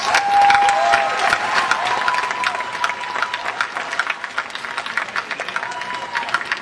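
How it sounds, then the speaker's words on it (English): Comic-Con 2009 Iron Man panel audience applauding the creator, a broad wash of crowd clapping with scattered cheers, loudest at the start and gradually thinning out, with a faint tone and crowd murmur behind. "could everyone applaud the man that created this project and these characters?"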